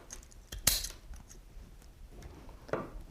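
Snips of scissors cutting floral wire for a Cymbidium orchid bridal bouquet, a couple of sharp close clicks and a metallic snap, with faint handling noises between in a quiet room.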